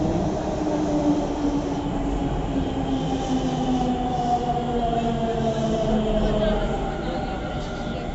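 A Delhi Metro train arrives at a station platform, its motor whine rising and falling in gliding tones over a steady rumble of wheels, with people talking faintly in the background.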